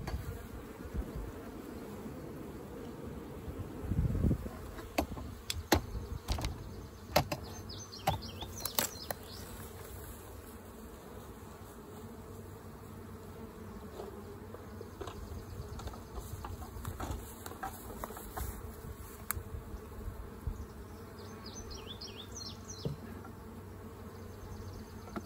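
Honey bees buzz steadily around an open hive while supers are added, a close, continuous drone with scattered sharper buzzes of individual bees flying past.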